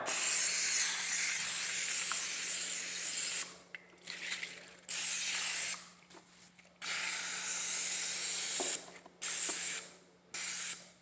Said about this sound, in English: I almost forgot to grease the pan.